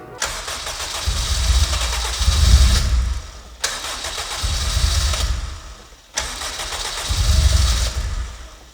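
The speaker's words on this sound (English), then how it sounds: "This thing should fire up, hopefully, but it's not gonna run great." A Honda Civic engine, part of a $500 project car, cranks three times in a row. Each attempt brings a rough, rising churn of the starter and engine that swells and then cuts off, loud and close, with no clean idle.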